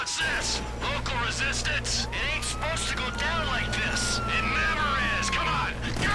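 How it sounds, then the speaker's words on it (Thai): A rising and falling electronic police siren wails steadily in Grand Theft Auto V during a bank heist, over loud continuous game noise and rumbling engine sounds, with sharp bursts of gunfire scattered throughout. "แล้วเสียงไซเรน อัดเลยอย่างนี้"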